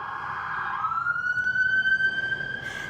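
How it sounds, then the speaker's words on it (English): An emergency vehicle siren wails along a busy main road, rising into a steady loud tone that holds for a few seconds over a constant bed of traffic noise. "we're on a main road in the studio, so there's lots of like cars and traffic and sirens"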